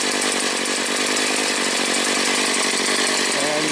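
A gas-powered trimmer cuts back brush to open a mucky woodland trail, its engine whining steadily and loudly close by for the whole stretch, with a faint voice underneath.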